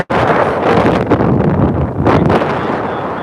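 Strong wind at a stormy beach buffets the microphone with a heavy, roaring rumble that never lets up, gusting harder at moments.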